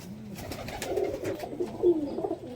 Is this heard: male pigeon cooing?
yes